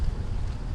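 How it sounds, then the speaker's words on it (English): Wind gusts outdoors on a hike where Baird's Creek meets the East River, a brief, low rumbling buffet against the microphone, with no voices. "It is a bit windy."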